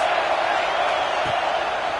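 Stadium crowd noise at an LSU versus Kentucky college football game, a broad, steady roar sustained throughout with no clear peaks, nearby and loud.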